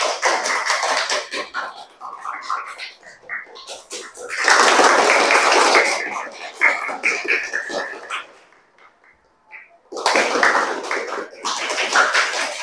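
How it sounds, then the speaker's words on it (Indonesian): A classroom of students joins in rhythmic clapping during an ice-breaking activity: close, loud bursts of hand claps in patterned rounds, broken by a short near-silent pause before the clapping resumes. "Tepuk tangan buat kita semuanya"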